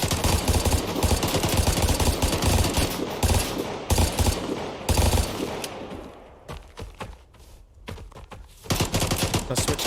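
Loud sustained full-auto gunfire from the video game Vigor, dense rattling bursts with brief pauses and a quieter stretch before firing resumes, no speech over it.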